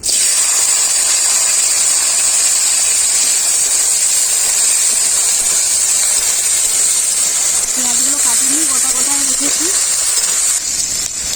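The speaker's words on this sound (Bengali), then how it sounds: "পেঁয়াজ হালকা করে ভাজা হয়ে গেছে" Sliced onions sizzle in a hot pan with dried chilli and nigella seeds, a loud continuous hissing fry; a voice speaks briefly toward the end.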